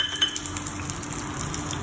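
Chopped onion fries in hot oil with bay leaf and garam masala in a pan, giving a steady, moderate sizzle with light stirring and faint utensil clinks throughout.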